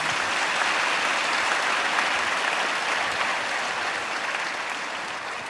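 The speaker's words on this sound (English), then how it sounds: "you can clap, please, all those" A large audience at the One World One Family World Cultural Festival at Sathya Sai Gram breaks into sustained applause, a dense, loud roar of clapping that holds steady and then tapers slightly.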